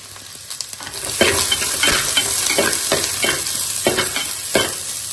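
Onion and garlic fry in a hot pan for a palak chicken gravy, a loud continuous sizzle broken by several rhythmic stirring scrapes, no voices.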